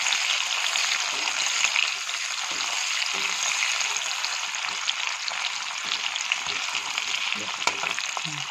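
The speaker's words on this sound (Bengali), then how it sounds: "এই দেখেন আমার তেল গরম হয়ে গেছে, এখান দিয়ে দিব পেঁয়াজ কুচি। হালকা ভেজে দিব পেঁয়াজটা।" Chopped onion sizzling and frying in hot oil for a chicken curry, a steady close crackle and hiss throughout with occasional light stirring.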